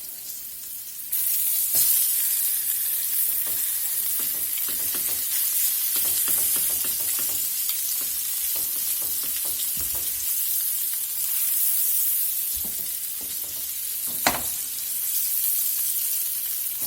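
Chops sizzle in a pan over a medium fire, a continuous bright frying hiss with scattered crackles and pops and a louder spit toward the end, with no voices.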